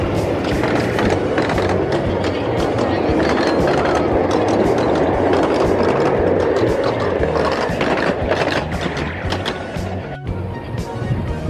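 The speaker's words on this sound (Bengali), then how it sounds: "ট্রেন ছেড়ে দিয়েছে ডন স্টেশন থেকে," A toy train in Toronto pulls out of a station along its track, giving a steady rolling rumble with rhythmic clatter that holds loud throughout and dips briefly near the end.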